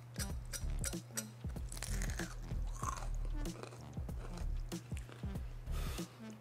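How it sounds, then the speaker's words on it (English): Loud, close crunching and chewing of a crunchy fried chicken sandwich, repeated crisp bites and mastication with a steady low hum in the background. "I don't know if the mic is picking up just how crunchy this is"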